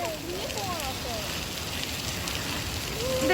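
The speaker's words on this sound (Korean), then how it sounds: "비가 오는데" Rain falling in the Seoraksan mountain valley makes a steady, dense hiss of drops pattering on surfaces all around, with faint birdsong-like chirps and a low background rumble.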